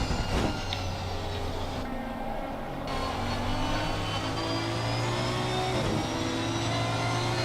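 GT3 race cars in a racing video game rev their engines at Laguna Seca, a continuous loud mechanical drone rising and falling in pitch with shifting tones throughout, with no speech over it.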